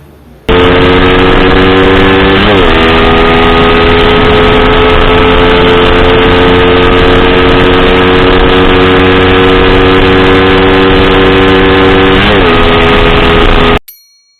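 A 2010 Suzuki Satria FU motorcycle engine runs loud and steady at high speed, its droning tone holding level with two brief shifts in pitch before cutting off abruptly.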